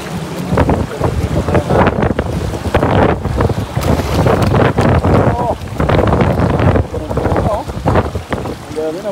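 Strong wind roars across a small fishing boat out on open water during net-cast fishing. It makes a loud, continuous gusty rumble that buffets the microphone, with splashes of water mixed in throughout.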